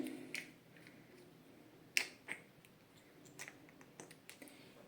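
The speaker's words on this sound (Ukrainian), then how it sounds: "Далі я беру свою сироватку для обличчя. Так, відкриваю." A bottle of facial serum is opened with a few sharp, close clicks and small snaps, one louder click standing out against a quiet room.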